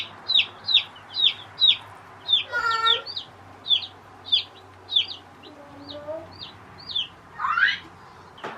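Chickens cluck at a homestead coop in a quick series of close, clipped calls, with a brief flutter of wings partway through and a louder squawk near the end over a low background hum.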